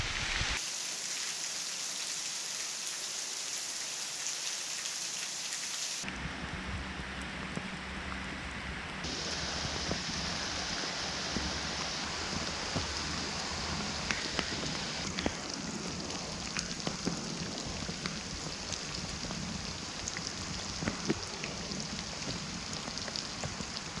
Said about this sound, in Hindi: नेचर में आई हुई शुद्ध साफ़ करने वाली बारिश